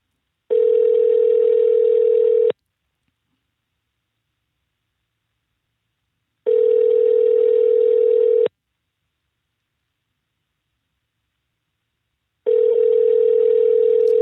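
Outgoing phone call goes unanswered: a steady ringback tone sounds in three two-second bursts separated by about four seconds of silence, loud and alone with no voices.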